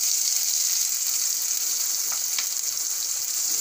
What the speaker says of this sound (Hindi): इसमें डाल देंगे कटी हुई बारीक प्याज